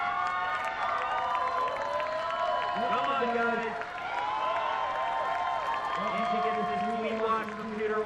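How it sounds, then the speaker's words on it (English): A crowd cheers and applauds a women's World Cup bouldering win in Vail, Colorado. Overlapping voices rise and fall over a steady wash of clapping, and a commentator talks over it. "Crowd enjoying that."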